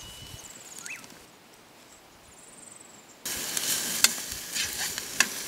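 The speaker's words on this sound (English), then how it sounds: "our steak and onion, which is now on fire." Steak and onion in a pan by the Glenelg River: a quiet stretch with faint bird chirps, then a loud, steady sizzle bursts in about halfway and continues with sharp crackles and pops.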